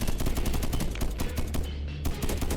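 Double barrel turrets blasting away in a survival video game, dense rapid gunfire bursts overlapping continuously with low booming impacts, loud and steady throughout.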